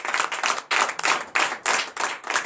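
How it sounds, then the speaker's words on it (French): A church congregation at a Sunday service in Bénin claps together in quick, lively bursts, a close, loud round of rhythmic hand claps with no talking. "Donnez l'acclamation à notre Seigneur"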